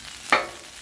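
Vegetables hit hot oil on a Royal Gourmet 36-inch gas griddle set around 400 degrees, giving one sudden close sizzle burst that swells quickly and then eases into a faint steady hiss.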